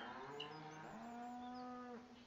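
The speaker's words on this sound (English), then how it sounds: "Some more cows that don't move." Cattle in Farming Simulator 17 give one long, drawn-out moo that holds steady and loud for about two seconds, then cuts off, with no talk over it.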